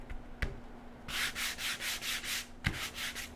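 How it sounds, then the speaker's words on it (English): Hand sanding with a sanding block over a painted craft project, a series of rhythmic, close scratchy strokes in two bursts with brief pauses, no talking. "So we'll take our sanding block"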